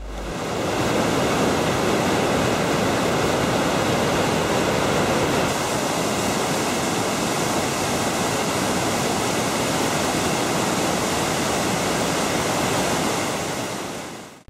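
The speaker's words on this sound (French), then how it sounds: "les chutes d'Iguaçu sont une merveille naturelle inscrite au patrimoine mondial depuis 1984" Iguazu Falls, the vast waterfall on the border of the Argentine and Brazilian parks, roars as a steady, dense wash of rushing water that holds constant from start to finish, with no voices.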